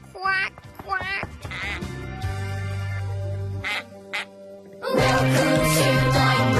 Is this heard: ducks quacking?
yes